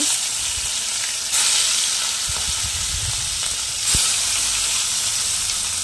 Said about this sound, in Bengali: আর এক এক করে মাছগুলোও ভেজে নেব।